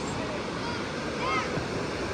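A small creek in the Green River area of North Carolina runs over its bed, a steady, close wash of flowing water with a faint voice under it.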